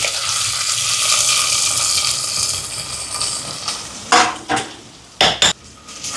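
Onions, cinnamon, curry leaves and green chillies fry in hot sesame oil for a biryani, a loud continuous sizzle that settles, then several sharp metallic clatters of a utensil against the pan near the end.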